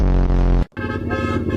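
Two loud, close car horn blasts, one long and one slightly different in pitch, with a brief gap between them.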